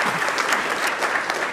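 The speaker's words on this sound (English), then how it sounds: "let's get one more round of applause for our new friends from London" An audience at a public housing event gives a brief, dense round of applause for guests from London, many hands clapping evenly and close.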